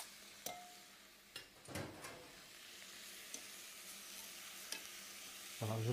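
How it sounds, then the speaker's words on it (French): Aromatic vegetables stirred and browning in a pan, a soft steady sizzle with a few light scrapes and knocks of the utensil against the pan, close and alone. "je vais rajouter ma garniture aromatique, que je vais faire colorer aussi"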